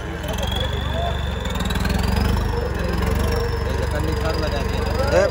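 Tractor engine running at a tractor competition, John Deere against Mahindra 585, a steady loud mid-pitched drone throughout, with a rising whine over it and crowd voices mixed in.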